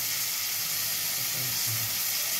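Ginger frying in a hot pan for a Bengali bhog dish, giving a loud, steady hissing sizzle that holds evenly throughout with no talking.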